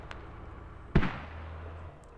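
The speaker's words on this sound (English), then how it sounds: "An explosion has just gone out right now." A single sharp rocket explosion in the military shooter Squad bursts loud and close, then trails off into a lingering low rumble.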